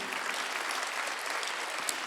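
A church congregation at a Sunday worship service claps in a brief, even burst of many hands that holds steady throughout, with no talking over it.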